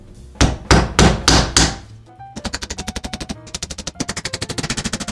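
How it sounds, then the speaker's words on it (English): Hammer and nails driving into wooden door trim: five heavy spaced blows, a brief pause, then a long rapid run of sharp taps, close and loud with no talk. "It's good old hammer and nails for me."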